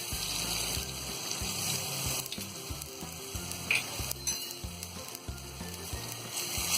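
Ginger paste and turmeric powder fry in oil in a pan for achari bhindi, a steady close sizzle broken by repeated rhythmic stirring scrapes, fairly quiet overall.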